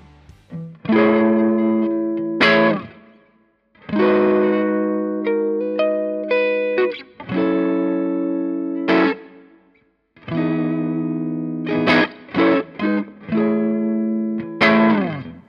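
Distorted Sterling by Music Man Cutlass CT30 electric guitar strums chords in bursts, loud and saturated with a chorus-like shimmer and short gaps between phrases.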